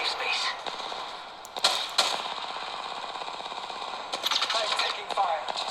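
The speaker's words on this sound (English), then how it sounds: "They're shooting at me!" Automatic gunfire in the mobile game Apex Legends Mobile, played on a Samsung Galaxy A52, comes as rapid rattling bursts with a few sharper single shots, under voices speaking throughout.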